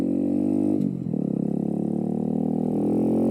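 A custom Kawasaki Z125 motorcycle engine revs up while riding on a cold day, with a close, loud, droning exhaust note that dips briefly and then climbs again, with no talking.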